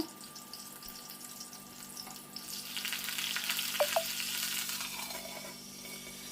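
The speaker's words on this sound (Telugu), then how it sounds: "ఒక గిన్నెలో ఆయిల్ తీసుకొని దాంట్లో పచ్చిమిర్చి అయితే యాడ్ చేసిన పచ్చిమిర్చి కరివేపాకు" Green chillies and curry leaves drop into oil, which sizzles and crackles softly, the frying growing louder halfway through, with a few light clinks.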